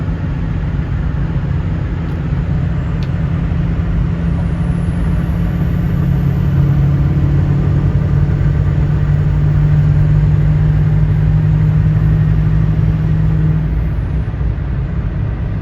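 A Ford 6.0 Powerstroke diesel pickup with 373 gears labours under load on an uphill climb, a loud, steady engine drone with deep low rumble that holds constant throughout, with no talk over it.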